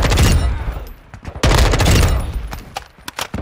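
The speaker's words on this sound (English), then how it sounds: "And I'll take some shots at range, too." Rapid bursts of M4 assault rifle gunfire from Modern Warfare 2, a build tuned for movement and aim-down-sights speed, firing at range in loud dense strings separated by brief pauses.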